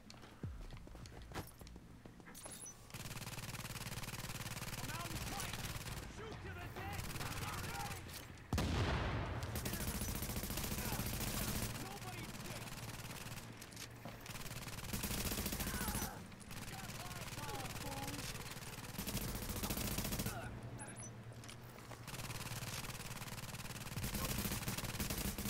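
Automatic turret firing in the shooter game The Division, rapid bursts of gunfire in repeated volleys with short gaps between them, mixed with footsteps and game noise, and someone talking at times.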